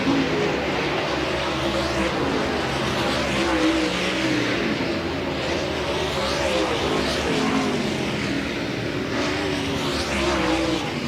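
Dirt track race cars on a final hot lap at Volusia Speedway Park during the DIRTcar Nationals, a continuous loud engine roar that swells and fades as cars pass, with distant public-address talk underneath.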